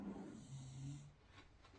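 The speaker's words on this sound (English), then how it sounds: "puppy dog having a bit of a snore" A slow, low snore drawn out through the first second, followed by quieter breathing in a hushed room.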